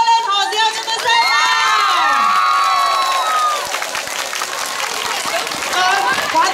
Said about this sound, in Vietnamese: Hãy vỗ tay, cao và giơ lên hò reo cho tôi xem